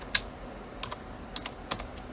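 Someone types on a computer keyboard with close, crisp keystrokes in irregular bursts and no talking.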